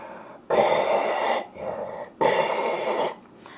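A voice imitates the TARDIS materialisation noise in two long, breathy, wheezing groaning bursts with a short dip between them, heard close and alone.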